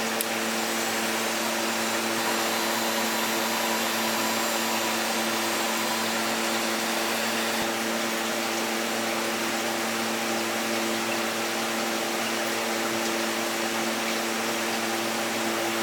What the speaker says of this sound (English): first thing we're gonna do is kind of hit it with the heat gun